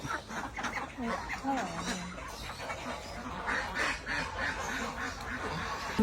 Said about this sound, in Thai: ลูกเป็ด